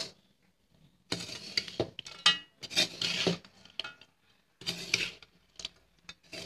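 Sugar and cardamom powder are stirred in a pan with a spoon, giving scraping, rustling bursts in separate strokes with short pauses between them, close by and alone.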